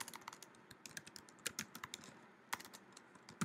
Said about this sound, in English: typing on computer